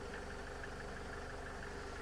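A 2012 Renault Trafic van's 2.0-litre, 115 hp engine idles steadily on its own, a low even hum with a faint rhythmic knock and no voices.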